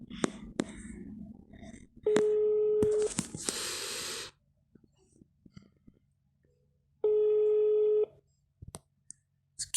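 A phone on loudspeaker rings out twice more with long, even tones. Low voices and some handling noise come before the first ring, and the gap between rings is near silent.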